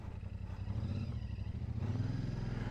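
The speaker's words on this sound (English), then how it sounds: "The engine makes a really good noise, and it pulls very well" A Royal Enfield Shotgun 650 motorcycle engine pulls steadily, its low throbbing note rising as it accelerates, then easing briefly before climbing again, close and continuous.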